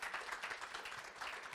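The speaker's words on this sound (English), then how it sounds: "could we get a little mini round of applause for our panelists here just now?" Faint, brief applause from a small audience at a healthcare AI workforce panel, a soft patter of scattered hands clapping.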